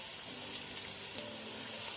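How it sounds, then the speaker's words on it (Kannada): Onions and green chilies frying on a medium to high flame for a Kannada gravy chicken, a steady close hiss of oil sizzling with a slight stir near the middle, no voices. "ಇದನ್ನು ನಾವು ಗೋಲ್ಡನ್ ಬ್ರೌನ್ ಆಗೋ ತನಕ ಮೀಡಿಯಂ ಟು ಹೈ ಫ್ಲೇಮಲ್ಲಿ ಫ್ರೈ ಮಾಡ್ಕೊಳ್ಬೇಕು"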